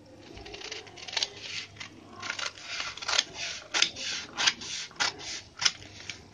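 Scissors cut through fabric while shaping a close U neck on a garment front, a run of crisp snipping bursts in an irregular rhythm, close and fairly quiet over a low steady hum, with no talking.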